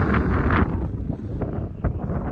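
Wind gusting through a tin roof during a dust storm, a loud rushing roar with buffeting and rattling thumps, close to the microphone and unbroken.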